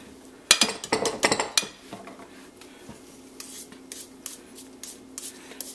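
Ginger mango muffin batter of almond and coconut flour being mixed in a bowl: a quick series of clattering utensil knocks against the bowl, then quieter scraping and soft taps.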